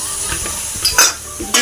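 Water poured into a hot pan of caramelizing sugar for a millet kheer gives short bursts of sizzling and hissing amid light stirring and utensil clinks, with no talking.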